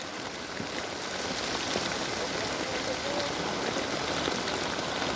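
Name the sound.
heavy rain on a river during a storm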